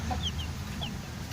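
Young 45-day meat chickens cluck in a small makeshift coop, a few short high calls rising over a steady farmyard background hum.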